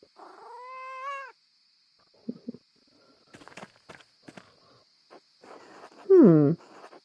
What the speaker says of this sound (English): Oh, I have to pet the cat, of course.